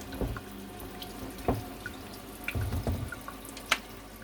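Water flowing from a tap on a homemade hot-water system at a summer cottage, a close splashing stream with sharp drips and bursts over a few seconds, no talking.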